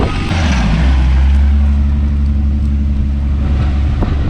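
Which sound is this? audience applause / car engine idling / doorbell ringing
car engine idling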